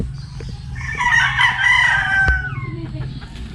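A rooster crows loudly and nearby in one long drawn-out call, with hens clucking and other fowl murmuring around it.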